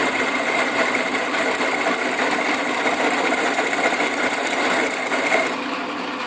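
A cutoff tool cuts metal on an Atlas/Craftsman QC42 lathe, making a continuous steady whirring grind that holds even for about five seconds before easing slightly quieter.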